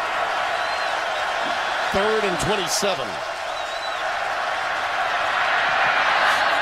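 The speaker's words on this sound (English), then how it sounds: "that's why this crowd is buzzing right now" A stadium crowd at a college football game, Gamecocks against Arkansas, a loud continuous roar and buzz with whoops and whistles rising above it, under a commentator's voice.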